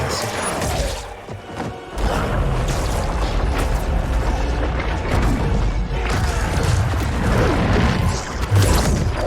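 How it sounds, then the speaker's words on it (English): A background explosion in the Mortal Kombat 11 video game story mode, a dense, loud rumbling boom that fills the clip after a short dip, heavy low-end blasts and crashing debris sustained throughout. "And then the explosion in the background."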